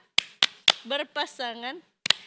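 Tepuk sakinah, an Indonesian clapping chant done in pairs: three sharp hand claps in a steady beat, then a sung, chanted phrase, then two more claps close together, all loud and near.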